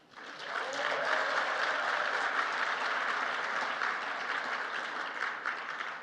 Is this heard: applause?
yes